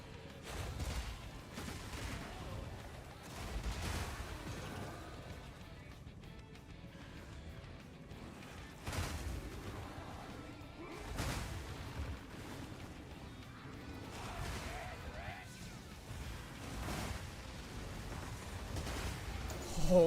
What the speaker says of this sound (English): that explosion almost broke Mike's computer.